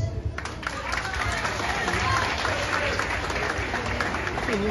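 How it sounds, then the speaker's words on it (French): An audience at a gathering applauds warmly, keeping up steady, dense clapping with crowd noise and some talk mixed in. "Applaudissez encore pour une dernière fois. Très chaudement"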